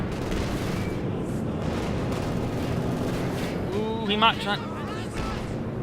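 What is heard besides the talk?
anti-tank gun and artillery fire in the video game Company of Heroes 2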